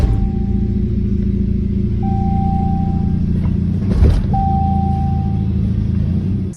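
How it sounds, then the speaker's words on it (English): Jeep with a faulty transmission running: a steady low rumbling drone with a thin whine that comes and goes, and a brief clunk partway through. "Customer had their Jeep diagnosed for a faulty transmission."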